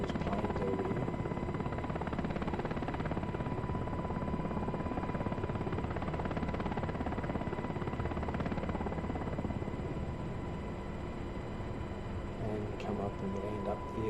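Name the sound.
UH-60 Black Hawk helicopter flying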